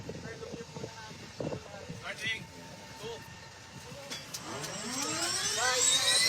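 An aircraft engine runs before takeoff, a steady rumble that swells into a rising whine toward the end, heard beneath people talking nearby.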